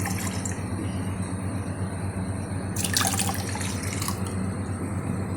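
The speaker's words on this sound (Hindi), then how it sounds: "2 कप पानी डालें पहले" Two cups of water poured into a pot for a rabri falooda recipe, a steady splashing pour with a brighter gush partway through, close and alone.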